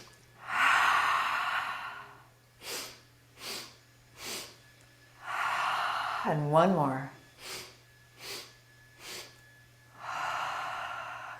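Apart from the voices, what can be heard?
breath of joy: three short inhales, full exhale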